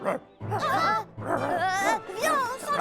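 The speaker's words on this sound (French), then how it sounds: "Pourquoi il aboie" Short, high-pitched dog barks and yips come in quick bursts, close and fairly loud.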